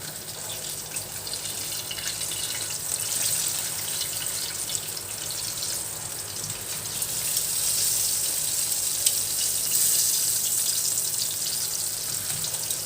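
Food sizzles steadily in hot cooking oil in a home kitchen, a continuous close hissing crackle with no voices.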